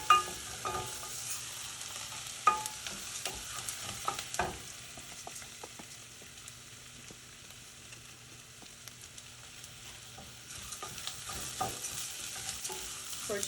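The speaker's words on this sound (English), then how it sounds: "We're just gonna saute it in our diced onion, chopped garlic, and the jalapeno." Rice sautéing in a pan with diced onion, chopped garlic and jalapeno, a low continuous sizzle broken by scraping stirs and occasional spoon knocks, with no talk.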